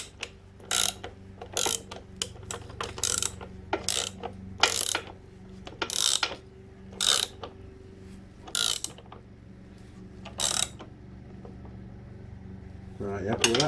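Ratcheting bursts from a socket wrench undoing the bolts that hold a vehicle mudguard, a dozen or so short clicking runs in irregular bursts, close and moderately loud, with gaps of low workshop hum between them.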